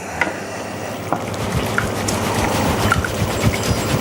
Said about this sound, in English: when you're stirring the pan, also make sure you stir all the way around the bottom parts